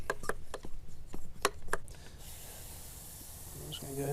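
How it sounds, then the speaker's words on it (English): A cheap hand pump sprayer misting Dark Fury wheel cleaner onto a tire: several short, sharp spritzes in quick succession, followed by a softer sustained hiss, close and fairly quiet. "Go ahead and spray the tire here."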